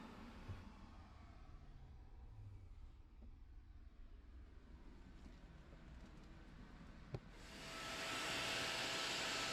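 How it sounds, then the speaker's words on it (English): Adams Mini Heated Air Cannon, a handheld heated blower, pushing debris across a car interior onto a floor mat: a quiet room tone, then a loud steady rush of air bursting in near the end. "Blow all of that junk forward up onto the mat to be vacked up later."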